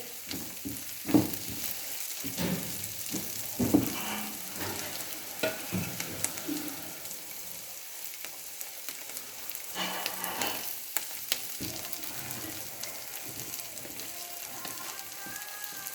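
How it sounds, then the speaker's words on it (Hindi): Capsicum and onions fry in a pan, giving a continuous crackling sizzle with scattered pops and stirring scrapes, moderately close and without talk. "अब हम इसमें शिमला मिर्च एक ली थी हम वो डाल रहे हैं। इसको फ्राई करेंगे।"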